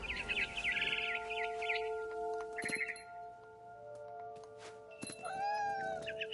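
A cat meows a few times in a video game, with repeated short mewing cries, while bird chirps and faint outdoor ambience sound in the background, the calls clear and fairly close.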